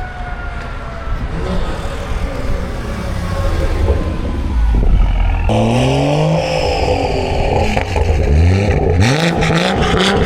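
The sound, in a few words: car accelerating hard, doing a full-throttle pull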